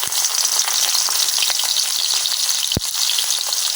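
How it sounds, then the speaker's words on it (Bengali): Chopped onion dropped into hot oil, crackling in a loud, dense sizzle that runs steadily from start to finish, with one sharp clack partway through and no talking. "আমার তেলটা কিন্তু গরম হয়ে গেছে গা। এখন আমি দিয়ে দেব কাটিয়ে রাখা পেঁয়াজ,"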